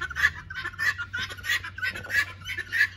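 Guinea fowl call repeatedly in a rapid, rhythmic series of harsh, shrill cries over a low background hum, close and fairly loud, with no talk.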